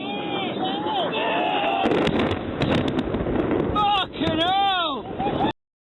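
Bombs exploding in combat footage, with heavy booms and rumbling blasts under dense wind noise and radio chatter, loud and continuous before cutting off abruptly.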